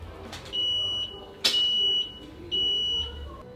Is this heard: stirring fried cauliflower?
no